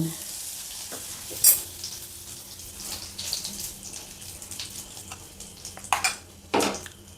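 Bay leaves, whole cumin and asafoetida sizzle in hot oil in a close, steady crackle, with scraping stirs and a few louder bursts of spattering; no voices.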